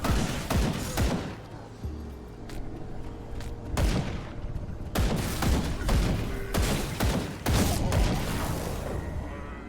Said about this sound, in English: I've been firing this gun for days now